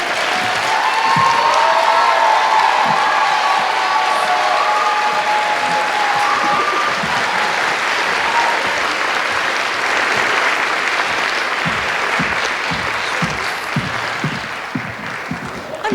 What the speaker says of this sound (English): Another round of applause for that teller.